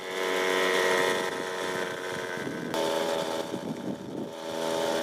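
A motorcycle on a group ride around Phoenix, Arizona: a steady engine drone with wind roar, fairly close and continuous, with the tone shifting slightly partway through.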